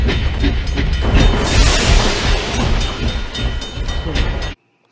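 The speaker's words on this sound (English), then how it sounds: "The train should be here any second now." A train arrives, rumbling loudly past with a rushing, clattering roar that swells and then cuts off abruptly.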